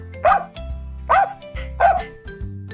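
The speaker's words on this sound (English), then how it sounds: "D is for dog. What a friendly dog." A friendly dog barks three times at a steady, even pace, each bark close and clear, with a low humming backdrop between them and no talking.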